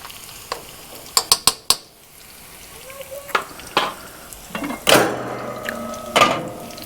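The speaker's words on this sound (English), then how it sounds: "I'm going to stir that round a bit for about 30 seconds" Chilli is stirred in a hot frying pan, and a soft sizzle runs beneath a series of sharp metallic clanks and scrapes from a utensil against the pan, coming in quick bursts and irregular single knocks.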